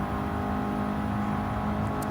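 A turbocharged Renault engine in Gran Turismo 7 pulls hard at high speed during a Nürburgring time trial, a steady, loud, continuous engine drone with a whine on top, with no talking.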